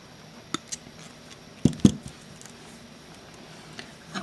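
Pliers cut wire during a craft project with an altered wine cork: a few small, sharp clicks and one pair of louder snaps in the middle, close and otherwise quiet.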